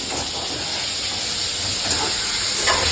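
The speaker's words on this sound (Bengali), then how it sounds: "আচ্ছা পটল ভাজা হয়ে গেছে পয়লা।" Pointed gourd (potol) frying in hot oil in a Bengali home kitchen, a constant close hiss of sizzling oil with a few faint clicks and no talk.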